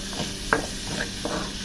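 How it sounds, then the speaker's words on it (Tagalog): Ingredients for pork spare ribs sinigang are sautéed in a pan that was used to crisp pork: a soft sizzle under light stirring and scraping, with a few brief clinks. "ngayon ay magigisa naman tayo ng ingredients"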